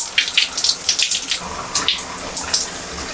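Tap water runs steadily during a natural hair wash day, a close, splashy hiss with small irregular surges and no talking over it.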